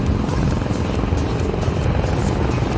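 A group of motorcycles roaring past on an Indonesian road, a loud, dense, continuous engine drone close by, with no talk.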